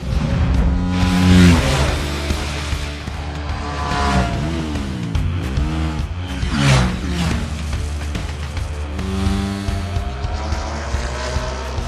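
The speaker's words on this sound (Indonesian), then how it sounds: "Kemudian Jack dan TP mengendarai motorsport menyusuri jalanan yang dikelilingi banyak pohon maple." Sports cars accelerate along a road lined with maple trees, engines roaring loud and close with rising and falling pitch as they rev through the gears.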